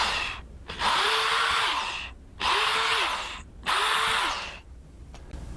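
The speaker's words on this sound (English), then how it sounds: "drill our holes for our wall anchors and our screws" A power drill bores holes into a wall for wall anchors and screws, running in three long bursts with brief pauses between them, each starting and stopping with a rising then falling whine, loud and close.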